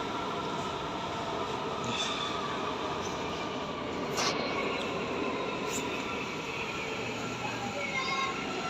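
A metro train runs with a steady, loud roar and rattle of wheels on track, punctuated by faint squeals.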